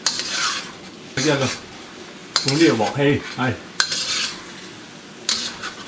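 Chinese rice cakes (nian gao) are stir-fried in a wok, with loud metallic scraping strokes of the spatula in rhythmic bursts over a light sizzle. A voice briefly speaks.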